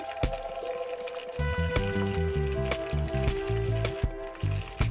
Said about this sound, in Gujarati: એક પેનમાં બે ચમચી તેલ એડ કરીને એમાં એક થી બે લીલા મરચા કાપીને આપણે એડ કરી લઈશું